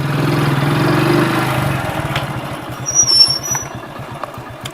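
A motorcycle engine idles outdoors with a steady, rapid low thumping that holds, then loosens into separate pulses, while a faint high whine briefly rises over it.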